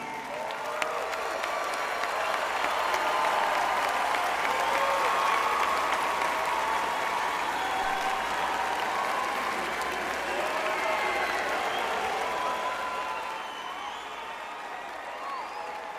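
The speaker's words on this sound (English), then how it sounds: "join me in thanking them with a round of applause" Sustained applause from a large graduation audience at a Florida State summer commencement, a dense, steady wash of clapping lasting about fifteen seconds before easing slightly near the end.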